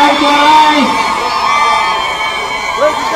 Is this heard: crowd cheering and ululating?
yes